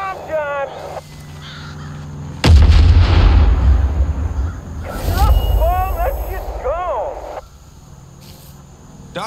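Loud booming blasts and heavy gunfire burst out in Far Cry 5 gameplay, a sudden deep explosion followed by rumbling crackle and further detonations, with crows cawing and game voices talking around them.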